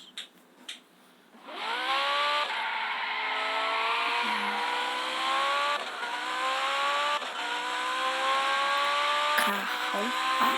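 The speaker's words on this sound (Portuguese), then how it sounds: "Agora o último carro. Ferrari 458" Ferrari 458 GT3 race car engine, loud and sustained, its pitch rising and sliding through several gear changes after a brief quiet start.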